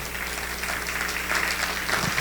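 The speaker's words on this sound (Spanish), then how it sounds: "Denle un aplauso al Señor." A church congregation claps during a Spanish-language service, a soft continuous patter of many hands at moderate distance, fairly even and unbroken.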